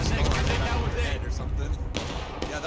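Cannon and musket fire booms and cracks during a battle in the Civil War video game War of Rights, several loud reports at irregular intervals over a rumbling battlefield, with players talking underneath.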